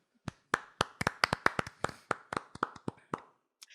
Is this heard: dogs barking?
no